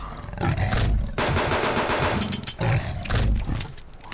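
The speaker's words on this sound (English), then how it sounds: "Oh, there's a wolf." Wolf growling and roaring in the hardcore survival game Subsistence, a loud, rough rumble in several bursts with sharp gunshot-like cracks in between, no talking.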